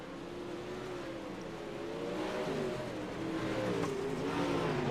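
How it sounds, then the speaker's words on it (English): Pro Late Model dirt race cars circling a dirt track, engines droning and revving steadily as several cars pass at a distance, with rising and falling engine pitch throughout and no talk. "Lots of drivers out there on track still trying to shake down the machine"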